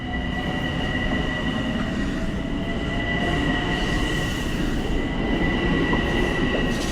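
Steady rumble of a passenger train in motion near Lynbrook station, New York, with low rolling wheel noise and a faint high whine running continuously throughout.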